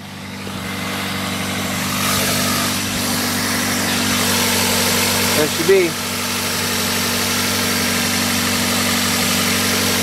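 A 2004 Pontiac Vibe 1.8 liter 16 valve four cylinder engine idling steadily after a cold start, a loud, even drone with the hood open, and someone briefly speaking over it.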